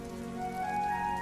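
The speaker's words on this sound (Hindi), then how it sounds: "कम से कम इस तूफान और बारिश से तो बच जाएंगे" Heavy storm rain falls in a dense, steady hiss heard close and loud throughout, with a sustained tonal hum running underneath.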